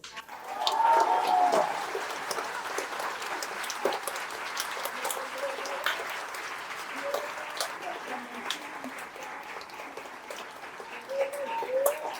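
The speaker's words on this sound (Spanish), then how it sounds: "Un fuerte aplauso nuevamente, por favor, a nuestra ponente." Applause for a speaker at a civic forum in Kanasín, Yucatán, a moderately loud crowd clapping for about twelve seconds, swelling early and then settling, with murmuring and a few voices mixed in.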